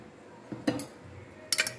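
Salna curry with curry leaves and coriander being stirred in a pot, heard as two short bursts of spoon-on-metal scraping and clinking, the second a quick cluster of knocks, over a quiet kitchen.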